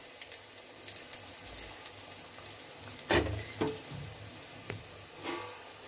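Vada fry in bubbling oil with a soft, low crackle and scattered pops, plus a few louder scrapes or splashes near the middle.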